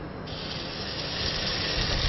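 Roti prata dough frying in a hot buttered skillet, a steady, loud, close sizzle holding level throughout with no pauses.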